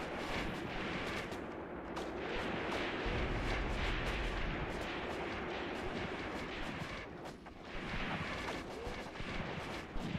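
Sustained battlefield gunfire and artillery from the WWII tactics game Graviteam Tactics: Mius Front, dense overlapping shots and rumbling blasts rolling on continuously, loud and alone.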